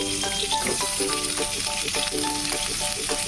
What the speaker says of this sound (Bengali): পটলটা 2-3 মিনিট ভেজে নেওয়ার পর এর মধ্যে আমরা অ্যাড করে দেবো আলু